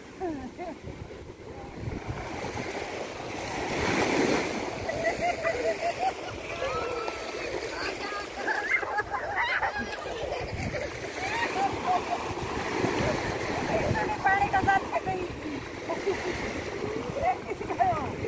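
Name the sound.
sea waves splashing on the shore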